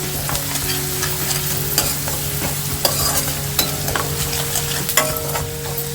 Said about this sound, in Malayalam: ഇനി ഇഞ്ചിയും വെളുത്തുള്ളിയും പച്ചമുളകും കറിവേപ്പില എല്ലാം നല്ല രീതിയിലൊന്ന് മൂത്ത് വരുന്നത് വരെ നമുക്ക് വഴറ്റി കൊടുക്കാം.